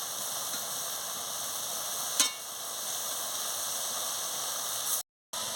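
Papaya chutney with raisins stirred in a pan, a soft steady sizzle and bubbling hiss with faint scraping, quiet and continuous with a single brief knock partway through.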